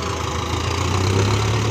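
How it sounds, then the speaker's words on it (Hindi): A Mahindra Arjun Novo 57 HP tractor engine drones loudly and steadily up close, a deep low hum with a rough mechanical chatter that sags slightly as the revs drop under load. "अभी दबेगा ट्रैक्टर, आरपीएम ड्रॉप कर रहा है बहुत ज़्यादा"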